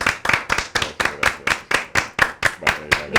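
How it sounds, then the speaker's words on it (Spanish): A small group claps in a steady, rhythmic unison beat, close and fairly crisp, about three claps per second over a few seconds, with little else audible. "Y con estos aplausos nos estamos despidiendo."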